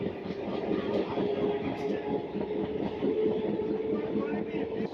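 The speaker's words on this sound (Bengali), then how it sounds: "এক্ষুনি একটা ট্রেন দেখলাম এদিকে যাচ্ছে" A crowded commuter train bound for Sealdah rumbles past near Dakshin Barasat, a steady close rail roar with faint rhythmic wheel clatter lasting throughout.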